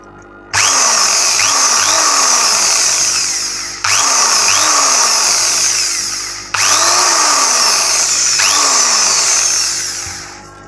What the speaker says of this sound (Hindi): इस प्रकार से हमारी ये ड्रिल मशीन लगभग चालू हो चुकी है।